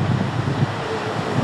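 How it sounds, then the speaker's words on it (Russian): Steady outdoor wind buffeting the microphone, a continuous rushing roar with no voices. "хотя сейчас ветрено и холодно."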